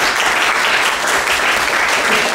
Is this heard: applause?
yes